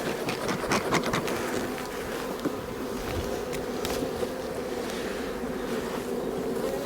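Honeybees shaken off a hive frame swarm and buzz in a dense, continuous drone close by, steady throughout with no talking.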